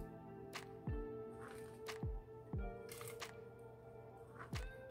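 Chopped onions tumble into a pot of red beans and water for Creole red beans and rice, giving several soft wet splashes and thuds spaced about a second apart over a steady background hum.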